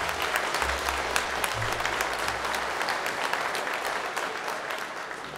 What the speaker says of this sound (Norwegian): Skal vi gi dem en skikkelig applaus som har reist så langt for å danse.